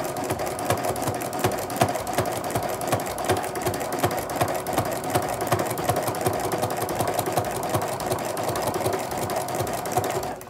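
A sewing machine stitches through a thick jelly roll fabric rug, its needle clattering in a fast, steady, unbroken rhythm close by for the whole stretch, with a faint motor hum underneath and no talking.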